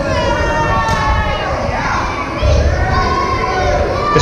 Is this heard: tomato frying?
no